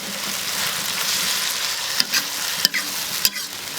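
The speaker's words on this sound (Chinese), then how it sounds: "把它炒均匀，炒个1分钟就差不多" Water bamboo shoots and beef are stir-fried in a wok, a continuous sizzle broken by a few sharp spatula clacks against the metal.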